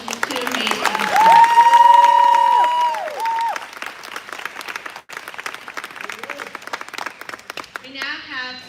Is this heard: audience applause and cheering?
yes